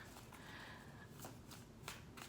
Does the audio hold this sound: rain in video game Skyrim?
no